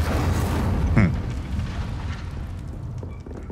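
An Incendio fire spell cast in the game Hogwarts Legacy, a dense roaring whoosh of flame with a booming burst near the start, loud and sustained before tapering slightly.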